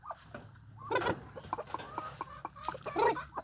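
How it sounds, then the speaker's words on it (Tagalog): Pet chicks clucking and peeping while being fed, several soft close calls over a low background, with two louder bursts of chirping. "Ito ang mga alagang sisiyo ko guys."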